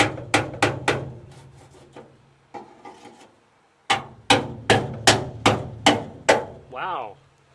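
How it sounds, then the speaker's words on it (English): A hammer drives a small chisel through spot welds on a salvaged Classic Mini floor crossbeam, with sharp, ringing metallic strikes in uneven bursts, a softer scraping stretch between them, then a quick run of steady blows ending in a brief resonant ring. "Now I'm going to take a little chisel and see how well"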